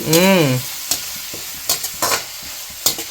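Onions, dry red chillies and curry leaves fry in a pan. A brief tonal sound opens, then scattered close stirring clicks and short bursts of sizzle come at irregular intervals.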